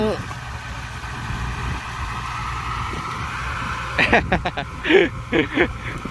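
A tractor crane dumping about seven tons of sugarcane into a trailer, its engine running with a steady low rumble, joined near the end by people talking.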